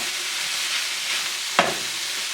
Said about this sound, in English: now we're going to take our tofu that we crumbled up. We're going to stir this in.